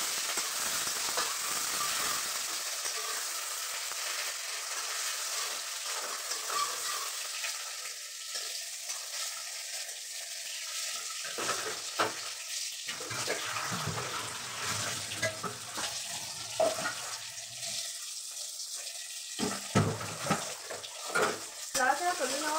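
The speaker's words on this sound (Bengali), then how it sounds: "একটু নাড়াচড়া করে নেব।" Tomatoes and green chillies frying and being stirred in a pan, a steady sizzle with intermittent scraping and stirring sounds, continuous and close, with occasional talk.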